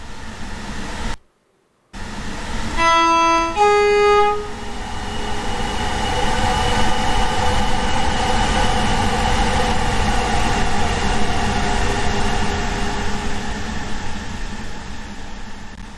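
Modded train sound in Train Sim World 3, with a steady rumbling engine and rail drone running throughout, broken by a brief dropout and a short burst of tonal horn-like notes near the start.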